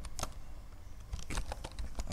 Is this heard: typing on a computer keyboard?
yes